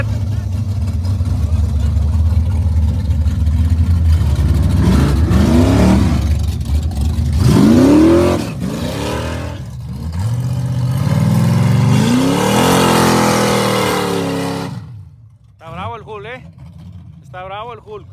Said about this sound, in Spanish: Se oye bravísimo este Corvette